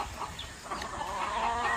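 Fighting-cock chickens at a farm cluck and call softly in the background, a faint scattered mix of fowl sounds without talk.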